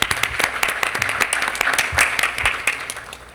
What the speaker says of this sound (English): Let's give them a round of applause and have certificates for both of you.